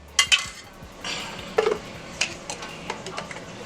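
Chicken shawarma ingredients with garlic are mixed in a bowl, giving a few sharp clinks and taps of a utensil against the dish amid quieter scraping and rustling, close by and with no talking.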